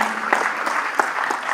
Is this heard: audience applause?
yes